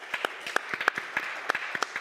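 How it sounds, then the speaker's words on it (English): A small audience giving a round of applause at a wellness gathering, scattered distinct claps at moderate volume, loosely rhythmic and sparse rather than a dense roar. "Everyone, round of applause for Michelle for coming back at us."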